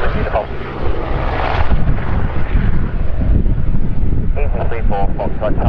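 An EasyJet Airbus airliner at the airport gives off a loud, continuous roar of jet engines with heavy wind buffeting on the microphone, and faint voices come through underneath.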